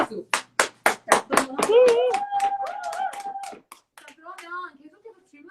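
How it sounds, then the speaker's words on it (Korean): An audience claps about eight times in quick, crisp, evenly spaced beats during a maker workshop interview, then a host talks over the fading claps. "박수."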